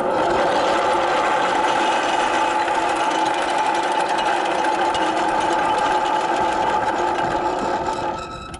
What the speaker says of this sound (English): we'll show the motor through all three